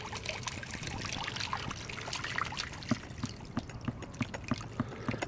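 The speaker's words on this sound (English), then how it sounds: "I can actually hear the water starting to come up through this pipe" Water trickles and gurgles steadily up through the pipe of a hydraulic ram, with soft dribbling and occasional small plops near the end.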